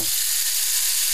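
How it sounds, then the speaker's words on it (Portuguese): A rain stick, a traditional Indigenous instrument, gives a steady, dense, hissing patter like falling rain that holds at an even loudness throughout, close and alone. "como no pau de chuva, faz"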